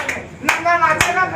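A protester at a police station claps hands, with two sharp claps standing out amid a busy background of voices and crowd noise.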